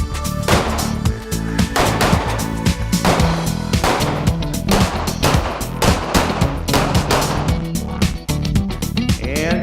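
Rapid, continuous handgun fire during firearms training, with shooters moving to and from cover at stationary, pop-up and laterally moving targets. Dense, loud, overlapping reports fill the whole stretch.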